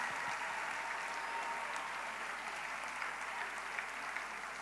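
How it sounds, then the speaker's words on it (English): Audience at a school annual day applauding the prize winners, a steady, dense round of clapping heard from a distance, fairly soft and uniform throughout. "I request the audience to applaud the prize winners."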